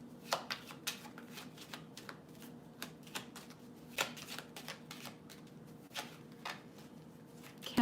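Tarot cards are shuffled by hand in quick, irregular riffling taps, close and fairly quiet, with no talking.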